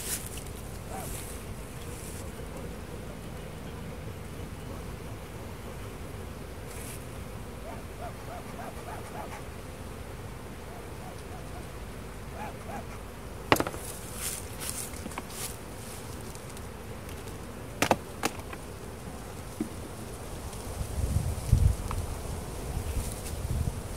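Honey bees hum in a continuous low drone during a spring beehive inspection. A few sharp knocks and clicks from handling the hive boxes punctuate it near the middle and end.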